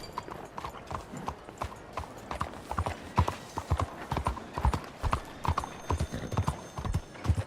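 Steady horse hooves clip-clop in a brisk, regular rhythm in the video game Red Dead Redemption 2, close and clear, with a faint murmur of other sound underneath.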